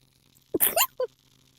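A single close, sharp sneeze that bursts out and is followed by a brief trailing sound.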